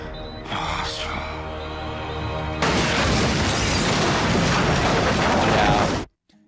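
An explosion in an episode of the Arrow TV series: a low rumbling passage, then an abrupt loud broadband blast with roaring debris that sustains for several seconds before cutting off sharply; no talking.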